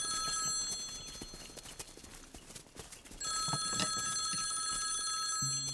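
A phone rings with a bright electronic melodic ringtone that breaks off briefly and resumes louder near the end, with no talk over it.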